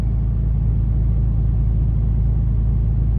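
An RV engine held at a raised idle of about 1100 RPM, giving a steady low rumbling drone that stays even and loud throughout, with no voices.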